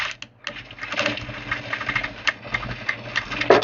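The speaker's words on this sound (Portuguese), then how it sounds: "Vou passando uma costura bem do lado, ó." A sewing machine runs a seam along the edge of a Christmas door draft stopper, its needle chattering in quick rapid bursts with brief pauses, close and clear.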